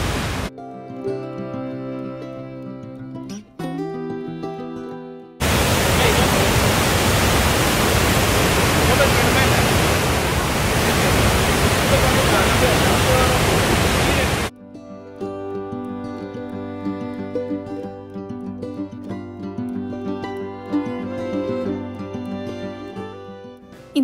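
Lower Falls at Letchworth State Park, New York, roars as a loud, dense wash of falling water through the middle of the clip, with music before and after it.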